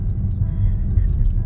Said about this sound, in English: I'm actually driving at the moment